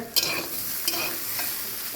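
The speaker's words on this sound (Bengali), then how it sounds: "দেখো এদিকে আলু ভাজা হচ্ছে" Potatoes sizzle in hot oil in a home kitchen while being stirred, with a steady frying hiss and a few sharp scraping strokes of the spatula.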